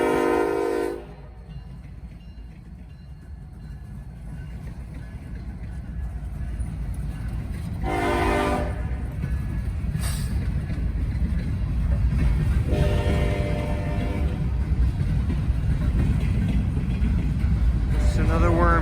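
A freight train rumbles past in cold weather, its horn sounding in several bursts over the steady rolling of railcars, with a person speaking at times.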